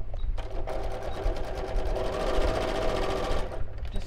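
A sewing machine stitching a quarter-inch seam around the top of a purse, its rapid even needle chatter running steadily for several seconds at close range before stopping.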